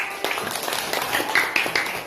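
Scattered, light clapping from a group of schoolchildren in a classroom lesson, uneven slaps with a few sharper strikes, fairly close and moderate in level.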